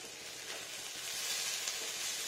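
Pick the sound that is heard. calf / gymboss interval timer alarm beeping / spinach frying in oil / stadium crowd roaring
spinach frying in oil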